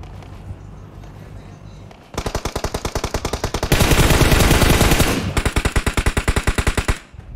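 Rapid automatic gunfire in the mobile battle royale game PUBG Mobile, loud and close, with a two-second pause then a fast rhythmic burst, a denser volley, and another rhythmic string of shots.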